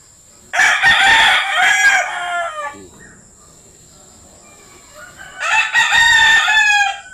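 A heavy-boned, tall rooster crows loudly twice, each long, strained call separated by a few seconds of near quiet, with a steady faint hum in the background.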